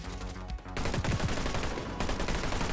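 Rapid PP-19 submachine gun fire in a first-person shooter, a loud sustained burst of automatic shots with a brief pause before the firing resumes.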